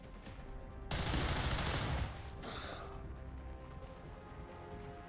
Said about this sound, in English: the panic fire kills them